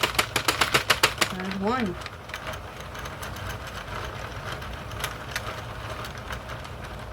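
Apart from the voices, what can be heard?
Sentro 40-pin knitting machine being cranked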